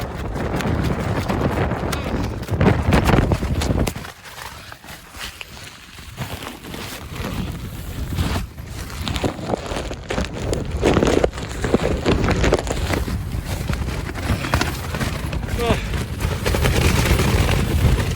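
Strong gusts buffet the microphone on an open moor at Cartridge Hill, Darwen Moors, a loud, continuous roar that swells and drops in waves with a brief lull, with no voices heard.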